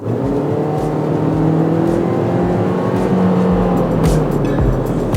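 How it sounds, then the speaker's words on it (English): A 2023/2024 Toyota Corolla Cross all-wheel-drive engine with CVT drones steadily under acceleration, its pitch rising slowly in long smooth sweeps, with a harsh buzzy tone and road noise throughout. "The engine note is a bit harsh. Coupled with the CVT, it can sound like a sad lawnmower"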